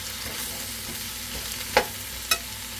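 Squash and mixed vegetables stir-fry in a pan, giving a continuous close sizzle broken by two sharp clinks of a utensil against the pan.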